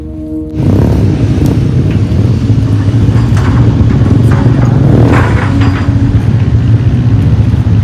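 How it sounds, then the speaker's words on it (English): Vehicle engines rumbling as traffic crawls slowly along a muddy, landslide-damaged road in Aceh after heavy rain, a loud continuous low drone that starts abruptly and holds steady, no voices. "Vehicles are forced to move slowly, and long lines begin to form."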